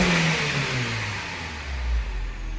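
A BMW Mini engine, freshly recovered after a blocked Vanos solenoid was cleaned, revs up and settles back, its pitch sliding downward and then rising again, close and loud, with no talking.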